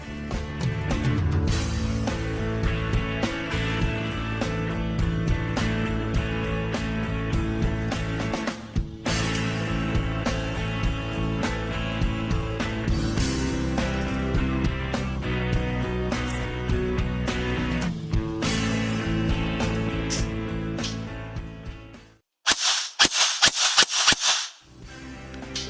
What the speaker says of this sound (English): let's reassemble the gun and we'll give it a fire test and also chrono it.